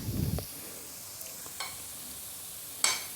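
Appe snacks frying uncovered in a pan, a faint, quiet sizzle with a brief stirring scrape at the start and a few small pops and clicks scattered over the stretch.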